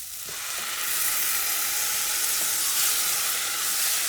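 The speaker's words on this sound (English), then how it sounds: "Let me add the tomato." Eggplant stew sizzles steadily in a pan after grated tomato goes in, a bright, close frying hiss that swells slightly after the first second and holds, with no talk.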